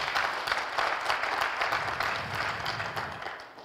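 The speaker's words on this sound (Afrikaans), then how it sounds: "Kan ons hulle hande klap gee?" An audience claps its hands at a church service, a continuous patter of many hands at moderate distance that holds steady, then thins toward the end.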